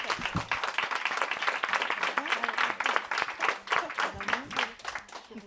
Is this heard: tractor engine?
no